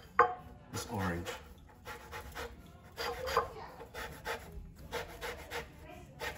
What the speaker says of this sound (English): I'm gonna use the rasp to take off the rind of this